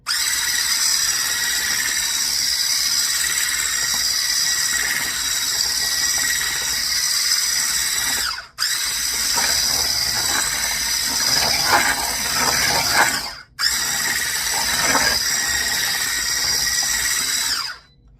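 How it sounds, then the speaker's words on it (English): An electric hand mixer whirs steadily and loudly through pancake batter, a continuous motor drone with two short breaks where it stops and starts again. "I just use this like a hand mixer."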